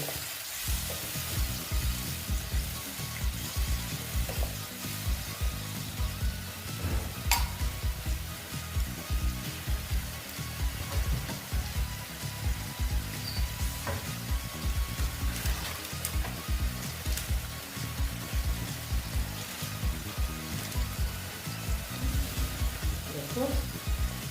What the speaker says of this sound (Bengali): এটাকে আমি ভালো মতো একটু ভেজে নেব